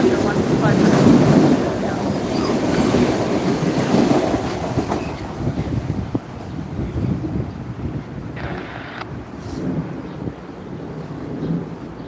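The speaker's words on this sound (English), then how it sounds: "I don't know if you could hear the scanner over the sounds of the train" A Metro-North train rumbles past the Williamsbridge station platform, loud and close with a broad continuous roar and rattling wheels, fading somewhat toward the end as faint radio chatter sits beneath.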